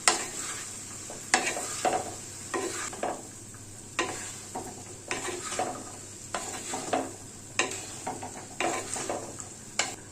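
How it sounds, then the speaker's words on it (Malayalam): Cut mango is stirred into roasted spice powders for a Kerala mango pickle, with a rhythmic series of scraping, squelching strokes in a metal vessel every second or so, close and with no talk. "മാങ്ങ അങ്ങോട്ട് ചേർത്ത് കൊടുത്ത് നല്ലപോലെ ഇളക്കി അങ്ങോട്ട് മിക്സ് ചെയ്യാം."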